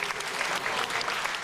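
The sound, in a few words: studio audience applause on a dance show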